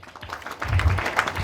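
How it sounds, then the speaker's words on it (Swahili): A small crowd of people applauding a family, scattered claps building into a brief close burst of applause. "wow tuwapigie makofi"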